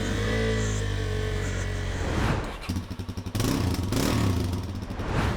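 KTM 390 Adventure motorcycle running close by, a steady engine drone with a revving, pulsing passage in the middle and loud clattering throttle bursts.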